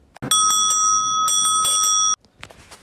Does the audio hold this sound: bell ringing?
yes